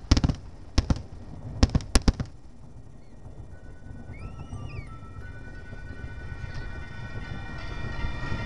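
Fireworks pop in several sharp, loud cracks near the start, then a whistling rocket rises and a quieter rumbling crackle continues, over faint background music.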